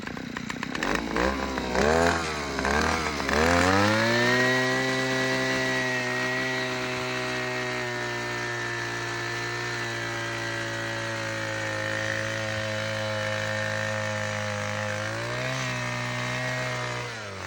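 A small handheld powered auger drills a pilot hole about 2.5 to 3 feet deep into clay soil at the bottom of a blueberry planting hole, its engine droning steadily and loudly for the whole stretch after a brief rev-up.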